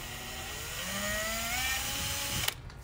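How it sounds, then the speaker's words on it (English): A power drill whines steadily, its pitch rising as it bores a hole through a cracked plastic Hobie Adventure 16 kayak, then cuts off abruptly near the end. "we're going to drill a hole"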